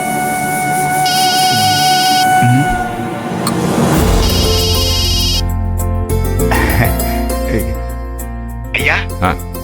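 A phone rings during a call as a repeating electronic trill in two bursts of about a second each. It is fairly loud over a busy background of music and room noise.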